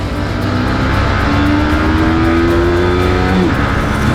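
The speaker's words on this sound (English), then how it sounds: "the engine switches to the higher cam and then you see the R15 rush to the top end" A Yamaha R15 V3 155cc motorcycle engine revs hard and climbs steadily toward its top end, a loud, continuous close-up drone whose pitch rises over several seconds, with no one speaking.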